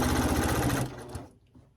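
Sewing machine running steadily while stitching a quilt seam with nested seams, loud and close for most of a second before stopping and fading to quiet.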